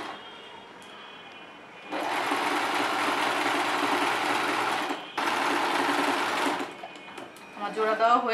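A sewing machine stitches a seam joining fabric for a girl's dress, running steadily in two close runs of about three seconds and one and a half seconds, with a voice speaking near the end.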